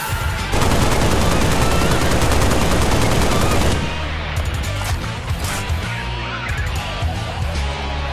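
Full-auto fire from the MA-37 assault rifle in Halo Reach: a loud, dense burst of rapid shots for about three seconds, then lighter scattered shots and game clatter continue to the end.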